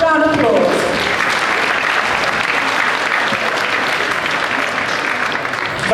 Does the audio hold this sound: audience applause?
yes